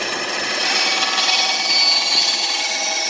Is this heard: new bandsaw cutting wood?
yes